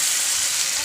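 Water hits a hot pan of frying potatoes and soya chunks, giving a brief, bright, hissing sizzle that stays loud and even throughout.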